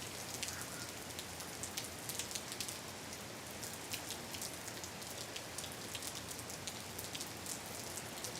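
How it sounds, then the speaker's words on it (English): Heavy thunderstorm rain falls steadily outside a studio, making a dense, even hiss of drops hitting surfaces with scattered sharper splashes, moderately close and with no voices. "And you can hear the sound of the rain."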